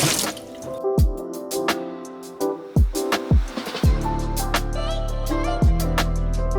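Water from a tap splashes and runs over a Henckels non-stick pan, with sharp drips and splatters at irregular intervals and a steady trickling flow building toward the end, close and moderately loud.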